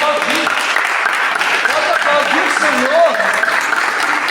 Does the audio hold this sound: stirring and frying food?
no